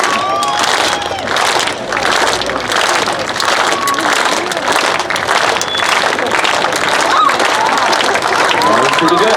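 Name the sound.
audience clapping at frog jumping contest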